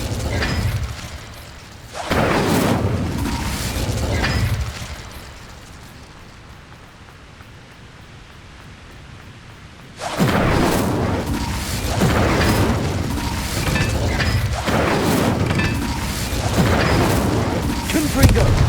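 In Hogwarts Legacy, Incendio fire spells are cast in repeated bursts, each a loud, rushing, crackling roar. A quieter lull falls in between, and a voice shouts between the blasts.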